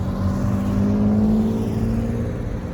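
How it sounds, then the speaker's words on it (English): Road traffic streams past near a Mexican restaurant at sunset, a steady engine hum and tire roar from passing cars that holds loud and continuous, easing slightly toward the end, with no voices. "Look at all this traffic."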